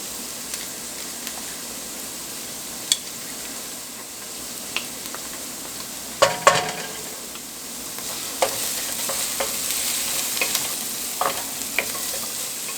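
Minced garlic, three cloves, hits a hot pan for a beef shepherd's pie and sizzles in a steady, close frying hiss, with scattered crackles and pops rising now and then. There is no talk.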